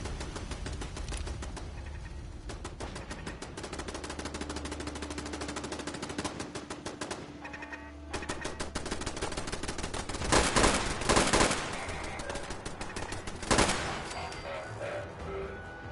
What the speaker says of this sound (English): what the fuck is all this shooting about?